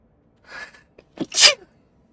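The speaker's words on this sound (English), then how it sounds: "I don't know what's making me sneeze so much" A single sharp human sneeze, loud and close, preceded by a softer breathy intake and a brief catch, then silence.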